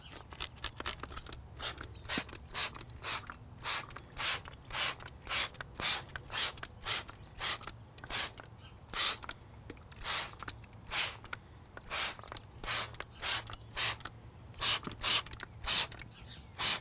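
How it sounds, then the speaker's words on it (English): Wheel cleaner sprayed from a trigger spray bottle into the barrel of a car wheel: a close, steady series of short hissing spritzes, roughly two per second, with no talk. "We're going to take wheel cleaner and we're going to spray it in the barrel of the wheel"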